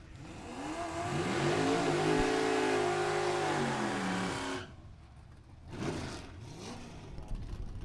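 A 2014 Camaro in the Sportsman's category at a drag strip roars hard with a rising, harmonic-rich engine note that sweeps upward and then drops away, followed by a quieter second pass.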